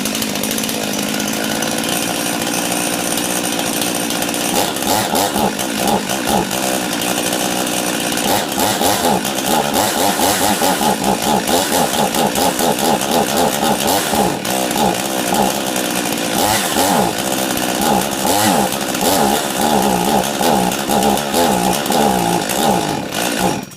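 A Husqvarna 55 chainsaw with a suspected carburetor problem runs loudly and steadily, its engine holding a high, slightly uneven buzzing idle throughout with no pauses.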